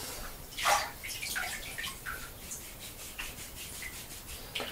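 Arms are washed with soapy water in a bathtub: soft sloshing, rubbing and dripping sounds, fairly quiet and close, with a brief louder splash near the start and no talking.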